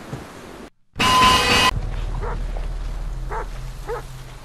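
Dog in the horror video game Don't Scream gives a few short yips and barks at mid distance after a loud burst of noise, over a steady low ambient hum.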